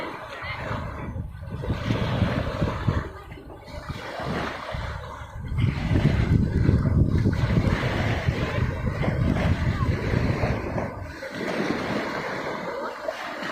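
Wind blowing on a boat at sea in the afternoon near a Thai navy area, a continuous roar of wind buffeting the microphone with water and hull rumble underneath, swelling louder midway.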